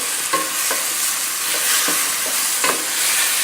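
Mushrooms and zucchini frying in a pan are stirred, with repeated close scrapes and clatters of the utensil over a constant loud sizzle, no talking.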